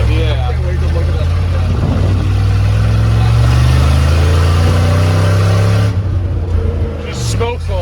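A 1971 Ford F-350 truck drives along the road, its engine a loud, steady low rumble that shifts and eases toward the end, with people talking inside over it.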